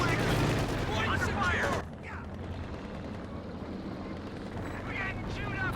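Machine-gun fire and battle noise from the game Company of Heroes 2 roar loudly at first, then fall to a lower rumble before picking up again, with a voice talking over it.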